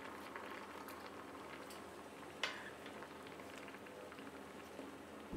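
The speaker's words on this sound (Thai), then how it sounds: "ปลาร้าทรงเครื่องเราก็เดือดนะครับ" A pot of Thai fermented fish sauce (pla ra) with sliced banana peppers simmers quietly with soft, irregular bubbling and popping, close by and steady throughout.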